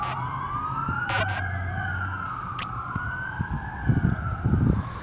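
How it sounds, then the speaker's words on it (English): An emergency siren wails in slow rising and falling sweeps, moderately distant, over traffic rumble and scattered background noises. "Hold on, sirens."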